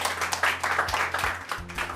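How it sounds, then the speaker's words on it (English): A classroom of students clapping for a classmate, a brief burst of scattered hand claps close by, uneven and informal. "All of you, clap for her."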